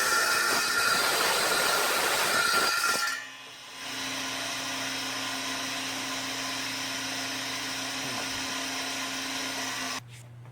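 A restored radial arm saw motor runs with a loud, steady whirring roar, then winds down and settles into a lower, even hum with a clear tonal drone, shutting off abruptly near the end.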